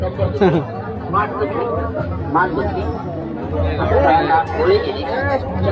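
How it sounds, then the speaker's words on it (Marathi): Dense, continuous crowd chatter at a village temple festival (jatra) during the annual celebration of Aai Bharadi, with many overlapping voices close by and a steady, fairly loud babble throughout. "बरीच म्हणजे खूप गर्दी आहे."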